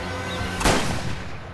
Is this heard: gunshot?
yes